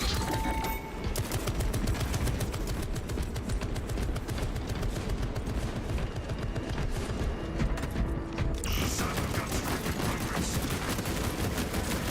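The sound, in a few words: turret firing in Warhammer 40K: Space Marine 2 video game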